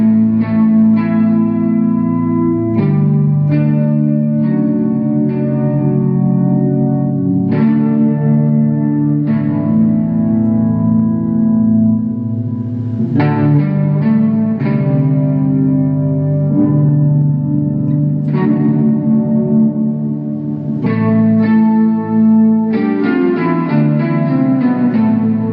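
Electric guitar run through an Electro-Harmonix Synth 9 pedal into stereo reverb, sustained synth-like chords and held notes changing every few seconds, loud and washy with long reverberant tails and no talking.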